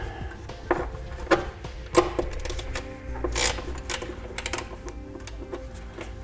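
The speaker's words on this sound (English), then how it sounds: "So we're gonna use a 10 millimeter socket." A 10 mm socket ratchet works exhaust hanger nuts loose under a 2013 Hyundai Veloster during a trailer hitch install, giving close irregular clicks and metallic taps over a low hum, with no talking.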